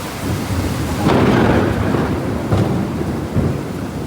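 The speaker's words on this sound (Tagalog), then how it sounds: "ang lakas ng kulog" Heavy rain pours steadily during a typhoon approach while deep thunder rolls and rumbles loudly, swelling in a few low booms.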